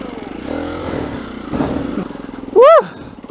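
Motorcycle climbing a steep green lane at Pant Glas, its engine labouring steadily throughout with a brief sharp rise near the end, heard close and loud.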